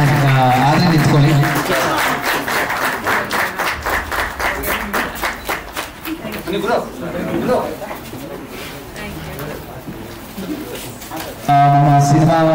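At a 25-day celebration event for the film Ugravathara, an audience breaks into a stretch of clapping. A loud amplified voice talks over the applause, which is mostly in the first half.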